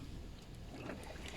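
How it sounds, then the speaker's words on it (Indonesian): Water gurgles and rushes inside the dashboard of a 2019 Toyota Camry with the air conditioning on, heard as a steady, faint, noisy wash with soft trickling detail and no speech. "terdengar suara air pada bagian dashboard"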